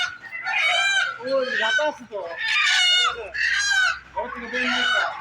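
Chickens at a free-range native poultry farm deep in a Malaysian jungle crow and cluck loudly, several birds calling in overlapping bursts close by, with a faint low hum underneath.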